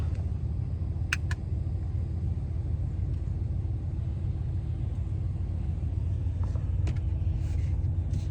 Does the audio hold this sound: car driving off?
yes